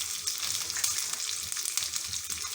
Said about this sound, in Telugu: పోపు మిశ్రమం అంతా కూడా వేగింది